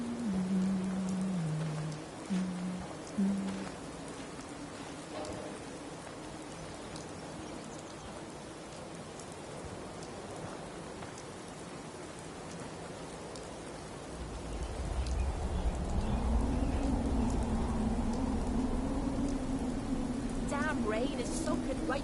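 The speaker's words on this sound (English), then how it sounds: "Damn rain is soaking right through me clothes" Rain falls steadily as a broad, even hiss, with a rumbling low wash that grows heavier in the second half, while a voice speaks briefly near the start.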